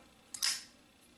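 A Kubey KU003 flipper knife snaps open in one short, sharp click and brief swish, close and fairly loud in a quiet room with no talking.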